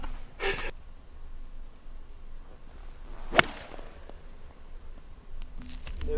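A golf club strikes a ball on a course at Bro Hof Slott GC, one sharp, swishing impact near the middle, with a few quieter whooshes and rustles before and after in a quiet outdoor setting.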